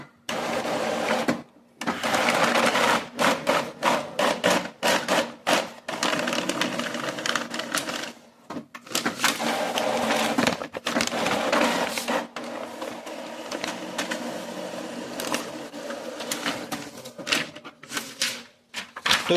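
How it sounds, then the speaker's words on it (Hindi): An Epson EcoTank M2170 inkjet printer runs a print job on legal plain paper, giving a loud, busy mechanical clatter of rapid rhythmic feed and carriage strokes with brief pauses, close by and steady for the whole stretch. "एक प्रिंट आउट निकाल के देख लेते हैं।"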